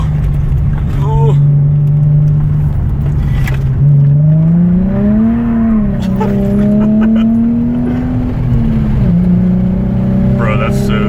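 A Nissan 350Z drifts, its engine note climbing and wavering as the revs swing up and down over several seconds, loud and close, with tire scrapes and occasional voices.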